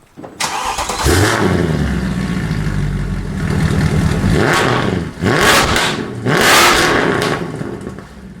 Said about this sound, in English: This exhaust sounds absolutely amazing.